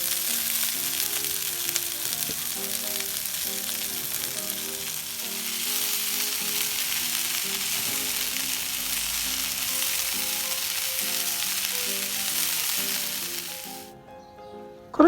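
Cooked green gram sizzles in a hot pan with toasted chili flakes, a steady close frying hiss with occasional stirring scrapes, continuing for over ten seconds before cutting off abruptly.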